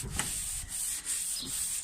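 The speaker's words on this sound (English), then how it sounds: "So we'll keep blocking, keep sanding." Someone hand block-sands a smoothed Peugeot 206 bonnet with 240-grit sandpaper. The strokes make a close, continuous raspy rubbing with a few rhythmic back-and-forth pulses, and no one speaks.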